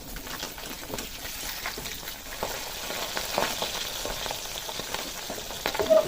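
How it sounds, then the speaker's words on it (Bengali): Pabda fish frying in hot refined oil, a steady close sizzle with crackling spits and pops throughout, no talking. "মাছটা ভাজা হয়ে গেছে তুলে নেব"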